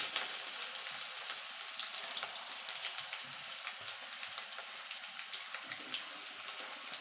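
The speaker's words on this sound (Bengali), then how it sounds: "আলুটা দিয়ে আলুটা একটু লাল লাল করে ভেজে নেব।" Potatoes fry with panch phoron spices in a pan, a soft, steady sizzle and crackle heard close but fairly quiet, without pause.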